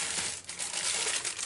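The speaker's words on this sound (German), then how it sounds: "Ihr hört es schon knistern" Tissue-type paper from a shoe box crinkles and rustles continuously as it is bunched up by hand, close and crisp, with no voices.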